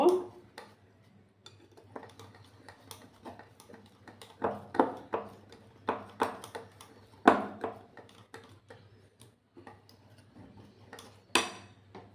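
Semolina and mango cake batter whisked by hand in a bowl for a homemade cake: irregular bursts of quick clinking, tapping strokes at moderate loudness, broken by short pauses, with a faint low hum underneath.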